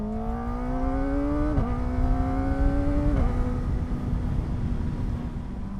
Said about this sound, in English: This inline four sound never gets tiring.